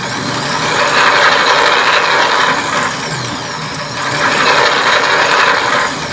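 A four-cylinder Stirling engine model kit runs with its sound switch on, a lever acting as the gas pedal. A loud, steady mechanical engine drone swells and eases in two slow surges, with no talking.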